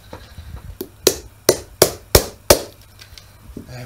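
A hammer strikes a part out of a Dyson DC04 vacuum cleaner during repair, delivering six sharp, close metallic knocks at an uneven, quickening pace with short pauses between.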